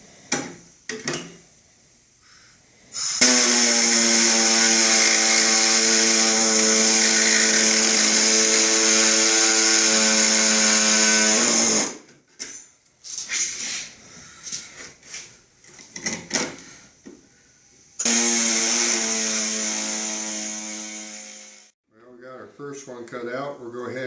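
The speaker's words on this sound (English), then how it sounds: "We're going to use our air hacksaw here and see how this works." Pneumatic air hacksaw cutting through a project enclosure for a 12V power management unit, a loud steady high-pitched buzzing rasp for about nine seconds, a pause with small handling clatters, then a second shorter cutting burst.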